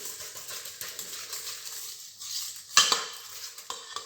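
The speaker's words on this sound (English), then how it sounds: "Just mix it." Seaweed is stirred into egg in a bowl with a utensil, a soft continuous wet mixing and scraping with a couple of light clinks against the dish, close and fairly quiet.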